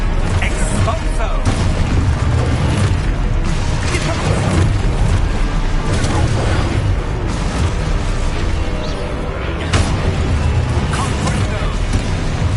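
Spell explosions from a Harry Potter video game, booming blasts and pops layered over constant battle noise and loud shouting of spell names, dense and chaotic for the whole stretch.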